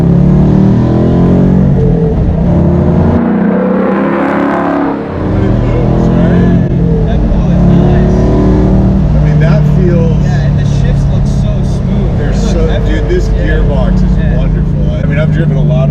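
A Coyote-swapped 1967 Ford Mustang Fastback driving, its loud engine rumbling continuously from inside the car with a brief dip partway through, under people talking throughout.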